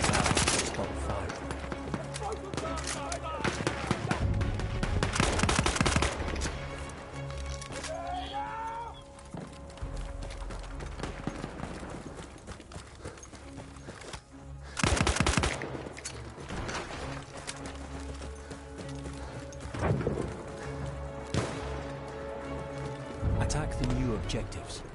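Enemy artillery in Battlefield 1 fires in repeated heavy booming bursts amid dense battlefield noise, loud and spread across the whole stretch, with a voice speaking over the combat.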